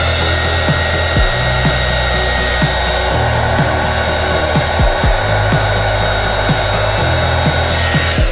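A heater blower warms the chin mount being fitted to an HJC RPHA 11 helmet, roaring loud and continuous close by while it is shifted and rubbed against the shell.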